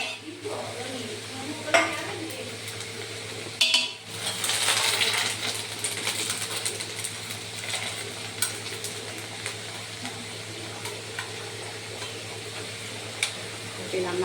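Tempered sambharo being stirred with turmeric and salt in a hot pan, a steady sizzle running throughout with scattered spoon scrapes and clinks against the vessel.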